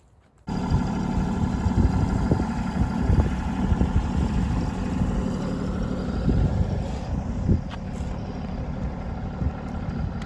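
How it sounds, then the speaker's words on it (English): A TYM T264 compact tractor engine starts and settles into a steady, close diesel idle as it warms up, running alone without voices for about ten seconds. "as we have the tractor warming up"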